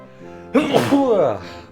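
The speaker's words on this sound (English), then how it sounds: "I feel like I only sneeze when I'm recording these videos" One loud, abrupt sneeze bursts out after a quiet moment, close to the microphone, with a short breathy tail fading into a faint vocal sound.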